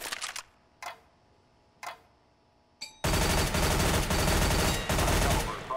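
Video-game gunfire on a weapon training course: a few sharp single shots spaced apart, then a dense, loud sustained burst of rapid automatic fire filling the rest.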